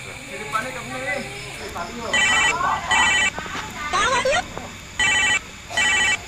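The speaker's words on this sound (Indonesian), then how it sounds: "indungna si Nina telepon yo" A telephone rings for an incoming call, several evenly spaced electronic ring bursts cutting in and out over background voices and noise.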